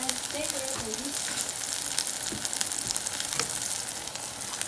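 Radish greens, collard greens and other greens frying in oil in a pan, a steady loud sizzle with crackling pops throughout and a faint voice in the background.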